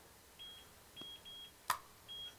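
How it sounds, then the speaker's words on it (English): Electronic beeping from an unidentified device: short, thin, high beeps at uneven intervals, with one sharp click in between, fairly faint in a quiet room. "We got some beeping going on."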